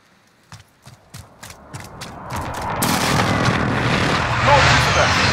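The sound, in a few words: precision airstrike explosions in Call of Duty video game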